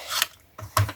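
Scissors cut through a paper tag in two quick, close snips separated by a brief pause, and no one speaks.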